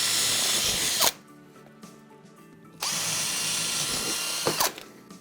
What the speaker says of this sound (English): All I'm going to do now is drill some clearance holes in there right the way through to the concrete board